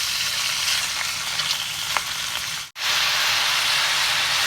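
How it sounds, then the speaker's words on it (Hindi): Chicken, about a kilogram, frying in a pan for a chicken curry, giving a steady loud sizzle with faint crackles and a brief silent break partway through. "चिकन को हम भून लेंगे। चिकन अपना कलर चेंज करता है, जब तक हम इसे फ्राई करते रहेंगे।"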